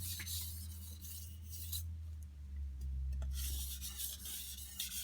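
A knife edge is drawn across a sharpening stone in soft, close rubbing strokes, with a low steady hum underneath and a brief quiet gap in the middle.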